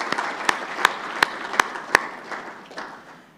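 An audience applauding at the ZEP-RE annual meeting opening ceremony, with a few loud, sharp claps standing out near the front before the clapping thins and fades away.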